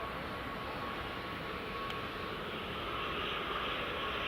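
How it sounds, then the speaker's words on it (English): A Loganair ATR 42 turboprop lines up on runway 24 at Edinburgh Airport, heard as a steady, distant engine hum and rushing noise that stays even and fairly faint throughout. "Loganair's ATR 42s by the look of it."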